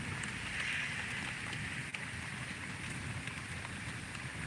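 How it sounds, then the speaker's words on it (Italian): Rain pours steadily during a stormy night by the sea, a faint, even hiss of drops with a low rumbling background and no voices. "una pioggia proprio."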